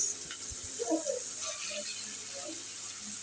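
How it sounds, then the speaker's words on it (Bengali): Water pours steadily into a hot pan of fried onions and salted hilsa fish, with a continuous hissing wash and a few faint bubbling splashes. "অল্প করে পানি দিয়ে দিব"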